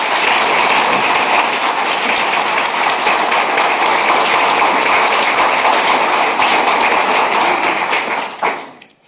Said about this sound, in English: Let's give all of our Courageous Love Award recipients one more round of applause.